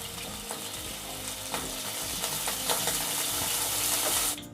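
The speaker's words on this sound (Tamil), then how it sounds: "இப்போ பேனில் 2 டீஸ்பூன் அளவுக்கு வெண்ணெய் சேர்த்துக்கலாம்" Butter sizzles and crackles in a hot pan, a steady frying hiss with faint clinks and scrapes, ending in a brief sharp burst.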